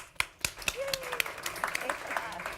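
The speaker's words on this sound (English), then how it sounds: "So a big round of applause" An audience claps for a panel of women at a tech event, sparse distinct claps that thin out as a voice talks over them.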